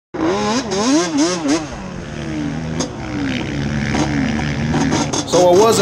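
A stock Polaris 1000 engine revs hard on a drag run, climbing in pitch through repeated rising and falling sweeps as gears shift, a missed shift into neutral, then pulling again, loud and close throughout.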